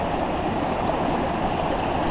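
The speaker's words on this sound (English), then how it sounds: "Here's one of these little streams, just one of them on this" A small mountain stream flows during a hike in Colorado, giving a steady, close rushing and gurgling of water that continues evenly throughout with no voices.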